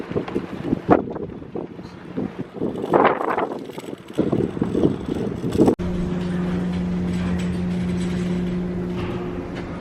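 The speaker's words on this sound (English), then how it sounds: "it is windy outside, isn't it?" Gusty outdoor wind buffets the microphone in uneven, loud bursts, then gives way to a steady, even drone with a low hum for the rest of the clip.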